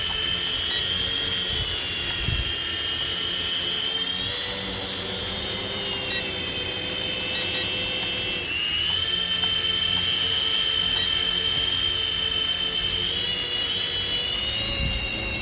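A Syma S52H micro Chinook RC helicopter flies after an automatic takeoff, its small twin rotors and motors making a steady high-pitched whine and buzz that holds close and loud throughout, with no talking.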